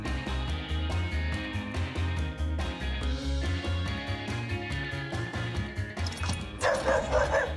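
A small pup yips and barks in quick repeated bursts, loud and close over background music.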